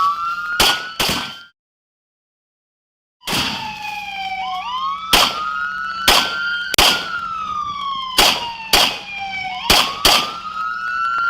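Sharp, loud gunshots ring out during a police exchange of gunfire with a suspect, a dense burst of reports, a short silence, then more shots spaced irregularly over a wailing police siren.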